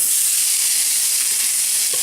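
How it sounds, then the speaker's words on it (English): A steady, loud sizzle of onions frying in a hot pan, constant crackling hiss with no voices. "Nice, good sizzle."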